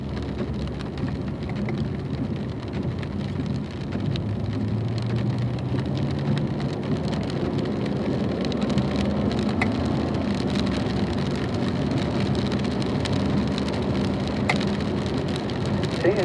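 Heavy rain and road spray during a wet drive at a performance driving school, a steady dense hiss over low engine rumble lasting throughout, with no voices.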